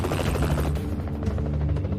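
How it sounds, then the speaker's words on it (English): A helicopter flies over the building during the 1996–1997 hostage rescue in Lima, Peru, a loud steady rotor drone with dense low thumping that runs through the whole clip, with no voices. "Hay un helicóptero por aquí."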